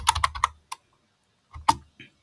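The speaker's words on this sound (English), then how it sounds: "I will just go ahead and type in Boeing" Computer keyboard typing, a quick burst of crisp key clicks, a pause, then a few more taps, close and alone.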